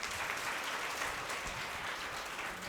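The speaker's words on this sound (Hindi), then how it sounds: "ताली बजाते जाओ।" Children at a Jain religious school session clap together in a dense, steady patter that holds at an even level for the whole stretch, with no voices.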